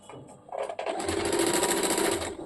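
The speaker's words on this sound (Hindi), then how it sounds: "इसको फोल्ड करके इसके ऊपर पहले मशीन चला देंगे" A sewing machine stitches along a folded salwar hem, starting with a few short bursts before settling into a steady, fast, close mechanical whir with no talk.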